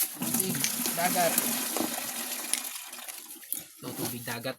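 Seawater poured over shells to clean off algae, a gushing splash of water with a person talking over and after it.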